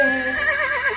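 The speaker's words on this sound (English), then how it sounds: "And what does a horse sound like?" A horse neighs once in a brief, loud, close whinny whose pitch wavers and trembles as it fades, with no talking over it.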